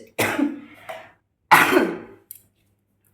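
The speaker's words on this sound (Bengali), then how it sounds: "কাশিটা হচ্ছে কথা বলছি তার জন্য কাশি হচ্ছে" Two harsh coughs, or throat-clearing bursts, ring out close and loud with a pause between, followed by a faint breath.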